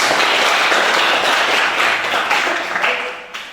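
Students in a light vehicle engineering workshop classroom clap together in a sustained, fairly loud round of applause that thins out and tapers off near the end.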